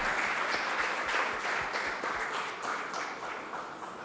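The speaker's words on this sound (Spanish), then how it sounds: "Un aplauso, por favor, al pastor" A church audience applauds Pastor Dani Rendón with sustained, dense clapping that stays loud and fairly even from start to finish.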